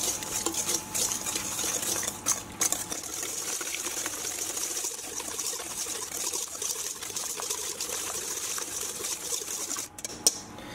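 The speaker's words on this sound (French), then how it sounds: "On a mis nos œufs. On mélange." Eggs are mixed into a cake batter in a bowl, giving a steady whisking, scraping rhythm that continues for several seconds with occasional utensil clinks and no voices.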